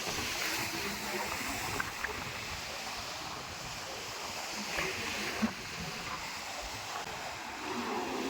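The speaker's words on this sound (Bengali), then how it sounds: "ঢেউটা ঝাপাট ঝাপাট করে পড়ছে" Sea waves breaking on Bakkhali beach in strong wind, a continuous wash of surf and gusty rumble with a few splashes, fairly distant and steady throughout.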